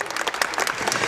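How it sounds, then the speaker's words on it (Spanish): Wedding guests at a ceremony applaud in a dense, steady burst of clapping, close and loud throughout. "Damos un fuerte aplauso"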